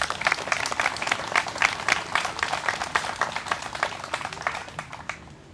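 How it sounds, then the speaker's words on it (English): An outdoor crowd at a park playground ribbon cutting claps for the parks commission, dense steady applause lasting about five seconds and tapering off at the end. "So let's give the commission a round of applause."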